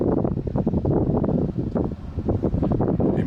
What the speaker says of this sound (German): Erste kräftigere Böen kommen einher.